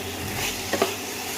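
Boiled large kabuli chickpeas go into a hot pan of fried ginger, garlic and green and red chillies. A steady oil sizzle runs throughout, with a couple of brief stirring scrapes near the middle.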